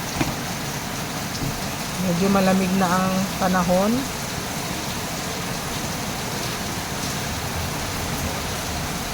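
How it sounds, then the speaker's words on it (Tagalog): Steady rain falls in Quezon City during the rainy season, a constant even hiss throughout, with someone briefly speaking over it. "Kaya ito na ang tag-ulan, rainy season na po."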